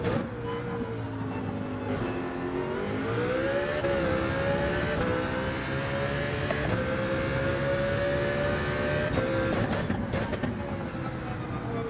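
A race car engine in Gran Turismo 7 during GT World Series nations testing, droning steadily at high revs with rising pitch sweeps through the gears and a shift change near the end, loud and continuous.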